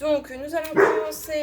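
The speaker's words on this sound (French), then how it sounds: "excusez-moi, c'est mon chien." A pet dog barks a few times close by, sharp yelps breaking in between stretches of French speech indoors.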